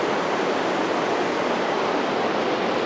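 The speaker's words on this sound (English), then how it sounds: "That's a river here behind me." A river in Oregon rushes steadily behind the listener, a loud, continuous broadband roar of flowing water with no breaks and no voices.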